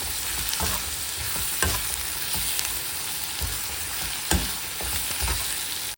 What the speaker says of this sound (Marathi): थोडीशी हळद घालणार मी आणि थोडंसं धनिया पावडर तर थोडंसं छान एकत्र मिक्स करून घेऊ